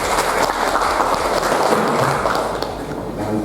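Audience at a free halal certification outreach event breaks into applause, a loud, continuous crowd clapping that fills the room for several seconds and fades slightly at the end.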